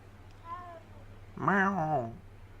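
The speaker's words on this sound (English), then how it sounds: "Pet the cat." A cat in the video game Hogwarts Legacy meows when petted, a faint short mew first and then one louder, drawn-out meow, close and clear over a low background hum.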